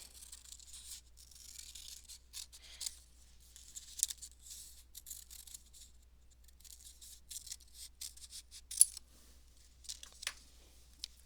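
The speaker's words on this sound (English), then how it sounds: "And then I'm just going to cut that out." Scissors cutting out a paper stencil, a quiet close series of crisp snips and paper rustles with irregular rhythm and a sharper snip near the end.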